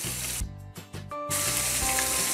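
Chopped onions hit hot oil left over from frying fish, bursting into a loud, dense sizzle that briefly dips as they are added, then settles into steady, close crackling frying.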